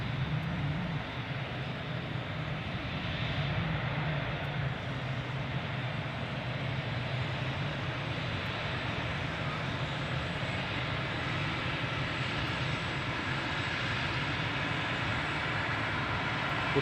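An aircraft landing at Glasgow Airport, a steady distant engine roar with a broad rushing wash that stays even throughout, no talk over it.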